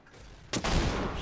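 A single heavy tank cannon blast in World of Tanks erupts after a quiet moment, followed by a loud lingering roar of battle noise.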